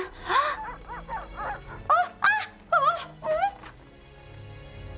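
Dogs yelp and whine in a rapid series of high, rising cries, loud and close, then fade to quiet.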